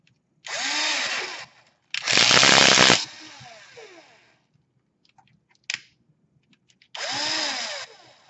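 A power drill drives screws into the back of an S500 quadcopter drone frame: three long whirring bursts of about a second each plus one short blip, close and loud with quiet gaps between them and no talking.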